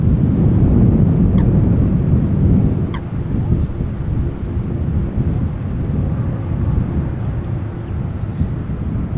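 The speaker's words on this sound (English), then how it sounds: "This is ITA Airways Flight 120 arriving from Milan. Bombardier C Series 300 A220." ITA Airways Bombardier C Series 300 (A220) arriving from Milan at Amsterdam Schiphol, a steady low jet rumble mixed with wind noise, fairly loud and continuous, with a couple of faint clicks.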